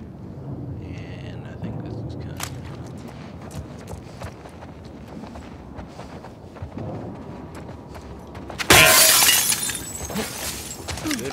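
Glass shatters in The Last of Us Part II, a sudden loud crash with a bright spray of shards after a stretch of quiet footsteps and ambient game sound, with speech nearby.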